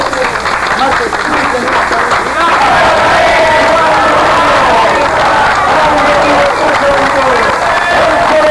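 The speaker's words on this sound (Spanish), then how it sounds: "¡Un fuerte aplauso!" Protest crowd in Recuay rallying against the Barrick mining company claps and cheers loudly and continuously, with shouting voices carrying over the applause throughout.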